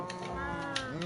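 A short cow moo from Minecraft, a low drawn-out bovine call heard under a busy game soundscape.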